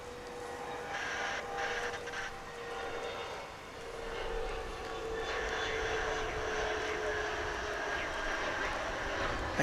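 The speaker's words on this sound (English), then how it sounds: "There's a plane up there somewhere." An airplane passes overhead near DFW International Airport on a damp, rainy day, its engine roar a steady, distant drone that swells slightly toward the end, with no other sounds.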